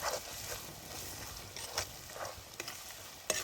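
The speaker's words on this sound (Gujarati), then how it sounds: "હલાવી નાખું બરાબર નાખી" Quiet stirring of a garlicky brinjal curry in a pan, with soft intermittent scrapes and light sizzling underneath, no voices.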